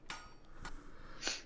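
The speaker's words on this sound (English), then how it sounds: "basically a hammer on an anvil." A blacksmith's hammer striking an anvil in the background, three separate metallic clangs spaced irregularly, somewhat distant and moderately quiet over a faint ambient hum.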